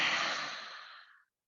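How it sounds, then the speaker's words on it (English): A deep breath is pushed out forcefully through the mouth in a single close, breathy exhale that fades out after about a second, followed by silence. "Let it go. Really push it out through the mouth."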